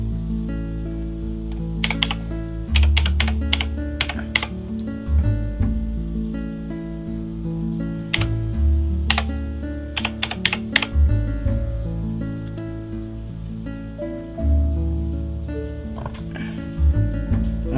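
Typing on a Razer BlackWidow X Chroma mechanical keyboard, bursts of close, crisp keystrokes in short irregular runs over a steady background of music.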